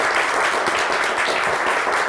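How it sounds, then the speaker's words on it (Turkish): Studio audience applauding on a Turkish TV word-game show, a dense, steady wash of many hands clapping close and loud for the whole stretch, with no voices over it. "Bir alkış daha duysun kendileri."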